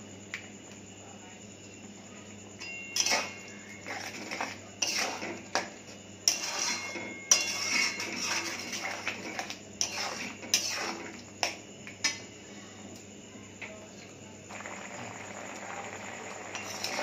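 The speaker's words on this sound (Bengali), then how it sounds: "সর্ষেটা দিয়ে একটুখানি কষিয়ে নেব।" Ground mustard paste for a tender hog plum chutney is stirred in a pan, producing irregular soft clinks and scraping knocks of a spoon against metal, fairly quiet, with faint sizzling underneath.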